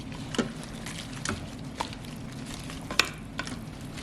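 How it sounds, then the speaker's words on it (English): Spinach gets stirred into Bombay potatoes in a pan: a soft, steady sizzle broken by a few scattered spoon taps and scrapes, nearby and moderately quiet. "Just stir that in."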